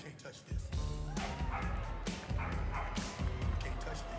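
Dogs bark and yip in short bursts during a Citizen Dog Training Scheme display at Crufts 2025, loud and close, while a commentator's voice runs underneath almost the whole time.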